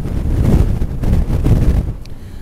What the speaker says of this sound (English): That wind chill is absolutely biting.